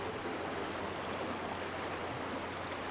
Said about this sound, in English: we got a cool cutscene of the rushing water